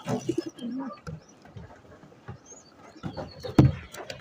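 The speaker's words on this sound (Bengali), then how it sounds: "দুটি আছে এখানেও কবুতরের বাচ্চা।" Pigeons coo softly beside a nest of two-day-old hatchlings, with several low, throaty coos and a few short chirps scattered over a fairly quiet background.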